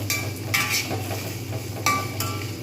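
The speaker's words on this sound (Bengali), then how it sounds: "পেঁয়াজগুলো আমি ভালো করে ভাজতে থাকবো" Onions frying in a hot pan while a utensil stirs them, giving a steady close sizzle with a few sharp scraping clinks of metal against the pan.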